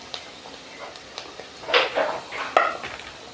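Roasted vermicelli is stirred into onion masala in a pan, with scattered spoon scrapes and clinks against the metal, a few sharper knocks standing out over a quiet background.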